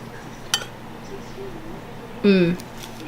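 Cutlery chinking against a dish while eating a Hello Fresh pasta meal, a single sharp clink followed by a louder scraping clatter, close up in a quiet room.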